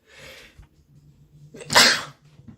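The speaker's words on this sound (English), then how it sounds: "And I'm gonna sneeze." A person gives a single loud, sharp sneeze, close by, after a few seconds of a faint breath and near-quiet.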